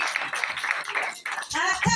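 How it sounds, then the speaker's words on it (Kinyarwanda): A church congregation claps together for about a second in a steady, rhythmic patter, then the clapping drops away and a voice begins speaking over the last moments. "Dukomere Imana, tubanze dukomere Imana amashyi"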